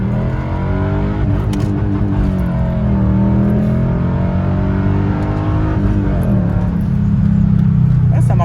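Mercedes CLK 55 AMG accelerating hard, its engine a loud, sustained roar heard from inside the cabin that climbs in pitch through the gears, with a brief dip at a shift.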